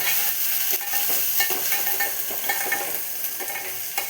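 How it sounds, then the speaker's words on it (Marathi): Turmeric is stirred into a frying pan while making khichdi, with a steady sizzle under irregular scraping and clinking of a spoon against the pan, close and fairly loud, without talking. "आता आपण हळदला मिक्स करून घ्यायचं."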